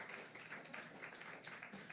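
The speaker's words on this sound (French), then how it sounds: "On les applaudit." Audience applause at an environmental event held at Ninkasi, a steady dense patter of many hands clapping at moderate volume, continuous for the whole stretch without pause.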